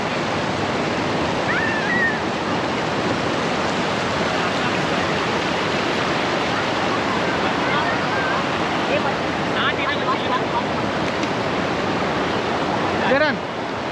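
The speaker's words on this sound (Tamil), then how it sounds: "தனியான ஒரு ப்ரைவேட் ஃபால்ஸ்." A secluded waterfall in the Kerala hills near Mankulam roars as a dense, steady rush of falling water, loud and continuous throughout with faint birdsong at moments.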